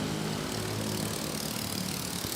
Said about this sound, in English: There's the port of Manila flight, touching down.